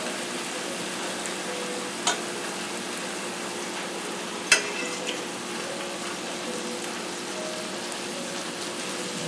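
Thai cilantro lime chicken cooking in a covered pan, giving a steady, soft sizzle and hiss throughout, with a couple of faint clicks or taps along the way and no talking.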